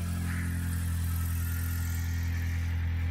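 A 2008 Dodge Caliber engine idles steadily just after starting, following an alternator replacement: a close, continuous low rumbling hum with no change in pace and no talking.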